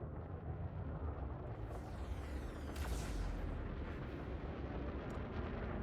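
Ship weapons in a space combat game firing on a target ship: a continuous heavy rumbling barrage with booming blasts and bright crackling bursts layered over it, loud and sustained throughout, no talking.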